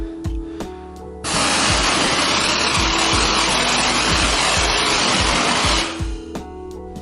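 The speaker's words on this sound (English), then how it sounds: "for the next tool, it's the foamer, and I'm going to do foam on the left side" Air-powered foamer sprays all-purpose cleaner foam at light dilution while detailing a car interior: a loud, steady hissing spray lasting about four and a half seconds, with softer clicks and handling noises before and after.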